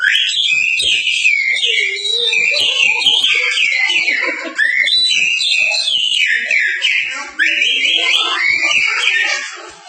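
A voice mimics birdsong, producing a continuous run of high, shrill whistling trills and warbles that rise and fall for about ten seconds, loud and close.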